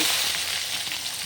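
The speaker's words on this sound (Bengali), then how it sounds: "জিরে দিয়ে দিলাম ফোড়ন, আর 4-5 শুকনো লঙ্কা আর 2-3টে তেজপাতা দিয়ে আমি ফোড়ন দিয়ে দিলাম।" Cumin seeds, four or five dried red chillies and two or three bay leaves sizzling in hot oil for a ghugni tempering, a bright continuous crackle close to the pan, loud and unbroken with no talking.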